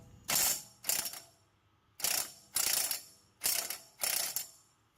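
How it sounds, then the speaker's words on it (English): A ratchet wrench works loose the center axle nut on a 2011 Nissan Rogue, giving six loud, close bursts of rapid clicking in pairs with brief pauses between strokes and no talking. "Here I am releasing the center nut."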